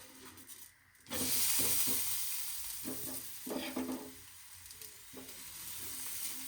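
Food fries in homemade cow's-milk ghee with a loud, bright sizzle that flares up suddenly after a short quiet start, joined by repeated close scraping and stirring strokes.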